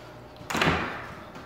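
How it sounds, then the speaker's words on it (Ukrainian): A door in a house under renovation is opened with a single sudden thud and a rattle partway through, then a fading rustle, heard close in a quiet room. "Открываем двери"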